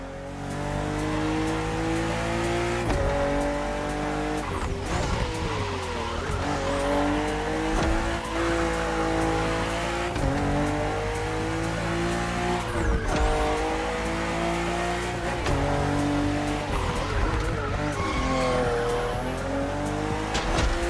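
A BMW M4 CSL race car in Crew Motorfest screams through its gears, with repeated rising revs, upshifts and brief tire squeals and skids. The loud engine is close and continuous for the whole stretch, with no talk.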